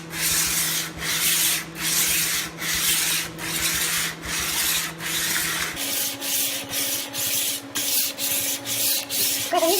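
A coarse strip of old sanding belt is worked by hand along a forged pata sword blade in a steady back-and-forth rhythm of loud, close rasping strokes, roughly two per second, with no talk.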